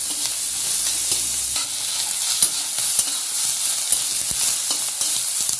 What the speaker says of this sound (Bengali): মশলাটা বন্ধুরা কষানো প্রায় হয়ে গেছিল